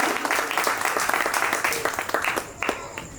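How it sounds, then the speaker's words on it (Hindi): A crowd claps at a Hindi kavi sammelan poetry gathering, brisk overlapping handclaps with distinct sharp hits, fairly close and lively, tapering slightly toward the end. "इनके सम्मान में ताली होनी चाहिए"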